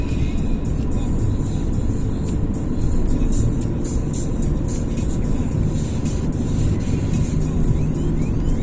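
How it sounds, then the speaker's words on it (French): A car accelerating at full throttle from low revs on a night drive, a loud steady engine drone with road noise holding strong throughout. "Je vais accélérer au pied au plancher, elle va repartir tranquillement."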